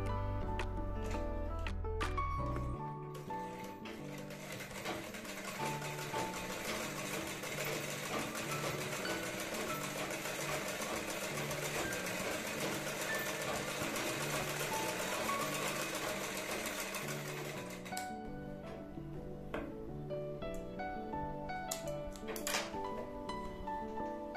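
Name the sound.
sewing machine stitching a blouse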